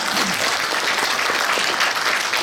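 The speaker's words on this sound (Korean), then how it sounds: "여러분 다시 한번 입장 박수 부탁드리겠습니다" Audience applause at a public policy forum on a proposed special autonomous city, filling the hall with steady, dense clapping for the full length, loud and continuous with no speech over it.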